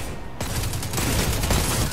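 Rapid gunfire rattles continuously in dense bursts, loud and close, with no voices.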